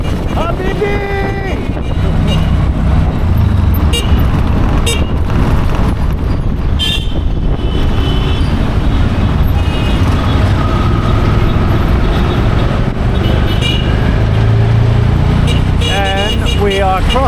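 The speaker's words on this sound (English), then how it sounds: "Oh yeah, traffic." Busy Cairo street traffic near a Nile crossing: a steady roar of engines and wind, with horn blasts near the start and again at the end, while people talk over it.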